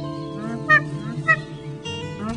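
An endangered Hawaiian nene goose calling at Kahuku Ranch, Hawaii: two short nasal honks about half a second apart, then a third softer call, clear and fairly close over a steady tonal background hum.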